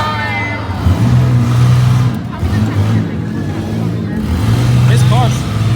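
Minivan engines rev and roar at a demolition derby, rising and falling in loud bursts under an announcer's excited commentary.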